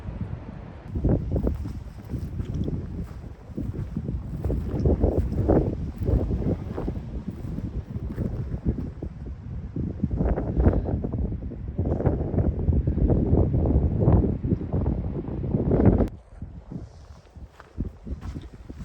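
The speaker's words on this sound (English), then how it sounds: "It's getting windy now" Strong, steady gusting wind roars and buffets the microphone on a mountain trail in the Wind River range, a dense low rumble that eases off near the end.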